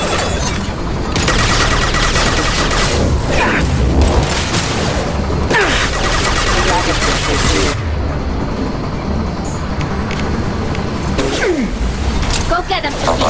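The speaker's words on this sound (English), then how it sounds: "Automated flight weaponry. Can do. I'll fire it." Automated weapon firing in Mass Effect 2 at the Hahne-Kedar factory: dense bursts of loud gunfire and booms in several sustained volleys, mixed with game voices and mechanical clatter.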